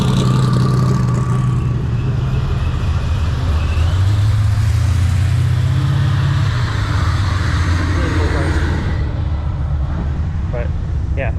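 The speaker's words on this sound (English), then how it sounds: "I'm going to start the car here a little bit when he's done" A Chevy Nova drag car's engine runs on open headers with a loud, continuous low rumble that holds steady throughout, while people talk over it.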